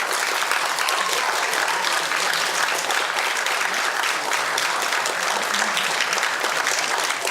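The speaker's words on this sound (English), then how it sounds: "Applause are in order." Sustained applause from a Model UN assembly after a resolution passes, steady broadband clapping at full volume for the whole stretch with no talk over it.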